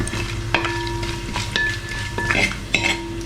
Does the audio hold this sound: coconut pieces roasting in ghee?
yes